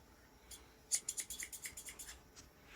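Sharp batting scissors cut through quilt batting in a quick run of about a dozen crisp, rhythmic snips, close and fairly quiet, with no talking.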